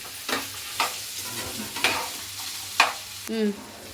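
Carrot, potato and egg fry sizzling in a pan, stirred in a few distinct scraping strokes with a spatula over a low steady hiss, close and clear, with no talking.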